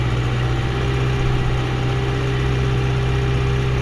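A John Deere 6120E tractor's diesel engine runs at a steady, loud, close drone with a strong low hum and even vibration. It is heard alone, with no clear change in pitch.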